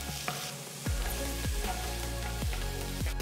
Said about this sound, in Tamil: அதில் 1 டேபிள் ஸ்பூன் பொடிசா நறுக்கின பூண்டு, 1 டேபிள் ஸ்பூன் பொடிசா நறுக்கின இஞ்சி சேர்த்து நல்லா வதக்குங்க